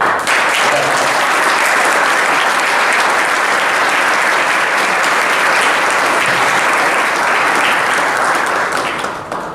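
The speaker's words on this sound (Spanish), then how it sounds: "Un aplauso para ellos muy fuerte." A congress inauguration audience bursts into loud, dense applause, a continuous roar of clapping that holds strongly for nearly ten seconds before starting to ease.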